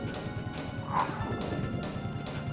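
Dogs barking in the PlayStation game Resident Evil: Director's Cut, a burst of yaps and barks over a dense, busy game soundscape with a crash-like hit near the middle.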